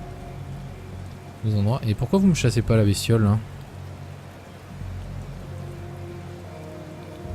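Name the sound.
rain falling at night in the video game Kingdom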